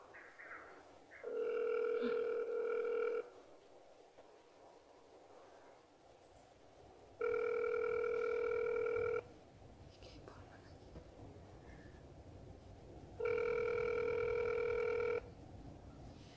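A telephone call to Mexico's federal health secretariat rings back three times, each long steady electronic ringing tone lasting about two seconds, evenly spaced by pauses with a faint hissy line and low whispering between.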